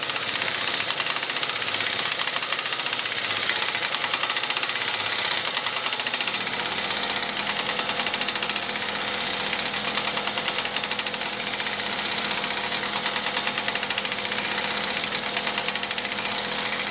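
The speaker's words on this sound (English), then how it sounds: "we're going to hit that with the 35mm air wrench" A 35mm air impact wrench tightening the wheel hub nut on a 2011 Malibu during a wheel bearing hub replacement, a loud continuous rapid hammering buzz that deepens partway through and holds steady to the end.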